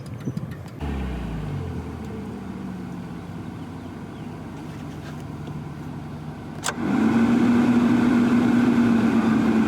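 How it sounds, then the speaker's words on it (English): A Mazda Miata engine idles steadily with its cooling fans running, the idle dipping low; a starter-like rumble opens, then a steady engine hum shifts to a louder, even drone near the end, with no talking. "Idle drops a little too low with the fans on."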